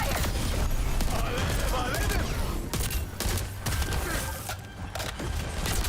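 Rapid, continuous gunfire in an online video game, dense bursts of shots layered over game effects while a streamer talks over the action.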